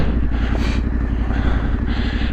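Heavy trail motorcycles in the Yorkshire Dales run with a steady, close engine drone and rhythmic low thumping, plus some clatter over rough ground, with no voices.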